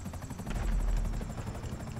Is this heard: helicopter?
yes